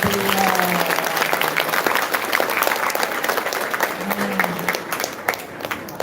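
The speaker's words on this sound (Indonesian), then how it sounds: "Tepuk tangan untuk beliau." A school committee chairman is greeted with a burst of applause and clapping from an audience at a school anniversary celebration. It starts loud, then thins out and fades toward the end.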